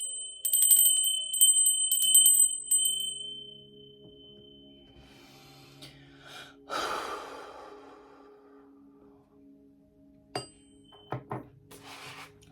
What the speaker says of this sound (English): I'm going to ring the bell there.